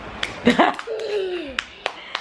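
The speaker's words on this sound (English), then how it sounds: "She coming to clap again, you know." A baby girl claps her hands in a few soft, scattered, close-up slaps, mixed with her vocal babbling and an adult voice.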